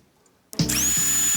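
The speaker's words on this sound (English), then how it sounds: "Okay, we will first drill holes in hard porcelain." A cordless drill with drill and hammer modes, a 3-speed transmission and a bright LED, set up for boring into hard porcelain, spins up after a half-second of silence into a loud, steady, high whine that holds to the end.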